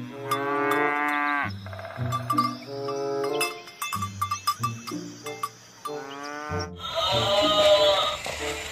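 Cows low in the video game Jurassic World Evolution 2, with several long, clear moos alongside repeated cowbell clanks and other farm-animal calls, loud and close.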